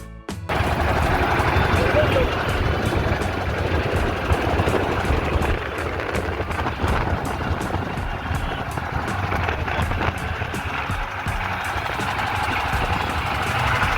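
A loud, steady motorboat engine drones on a river throughout with a rattling, chugging texture, running without pause from start to finish.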